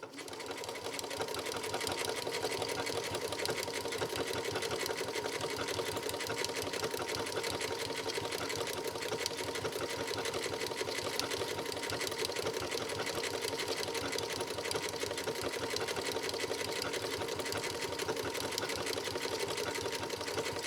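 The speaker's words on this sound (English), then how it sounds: "And I'll sew this one just a little bit faster, but not overly fast." Janome Memory Craft 6700P sewing machine stitching a pattern at a moderately fast pace, a steady close whirring needle rhythm running unbroken for about twenty seconds with no talking.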